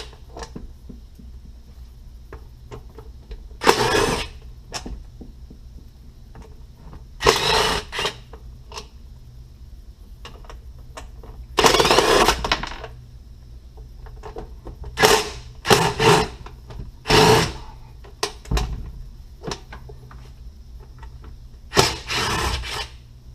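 A power drill backs screws out of the plastic cover of an Echo engine in a series of short whirring bursts, separated by quiet stretches of faint handling noise.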